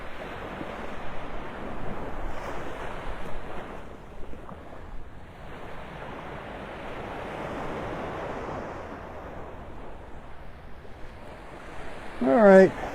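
Ocean surf rolls in on Vanderbilt Beach in North Naples, Florida, a broad steady wash of waves with wind buffeting the microphone, swelling and easing, and a short noise near the end.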